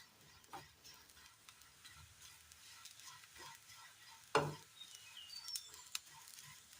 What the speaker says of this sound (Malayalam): ജീരകം, ചെറുതായി ഒന്ന് ചൂടാക്കി എടുക്കുന്നേ ഉള്ളൂ